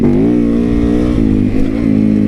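A Suzuki DRZ 400SM motorcycle engine idles and revs loudly and close by. Its steady, thumping single-cylinder drone swells in a couple of short blips and is heard alone, without speech.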